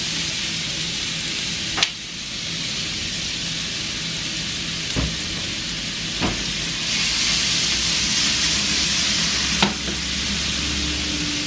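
Corn hits a hot pan for street corn and sizzles steadily, a continuous frying hiss broken by a few sharp knocks of a utensil against the pan.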